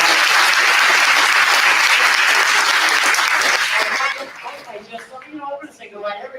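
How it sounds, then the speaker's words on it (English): Loud audience applause at a community unity and prayer day gathering, dense and even for about four seconds before thinning out as a voice begins speaking over the last scattered claps. "Let's give them a round of applause"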